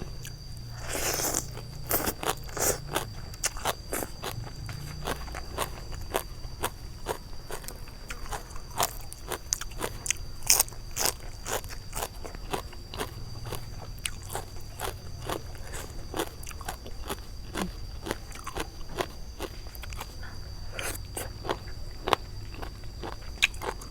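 Crunchy cuttlefish tentacle salad with chewy rice noodles and fermented fish sauce being eaten up close, a long run of crisp bites and crunches with chewing in between and no talk.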